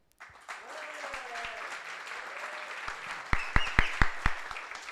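Audience at a French startup pitch event applauding and cheering, a steady wash of clapping with a few voices calling out, then a string of sharp, loud close claps near the end.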